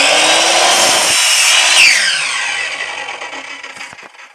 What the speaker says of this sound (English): Use a cut-off saw to take them, cut off the ends all 4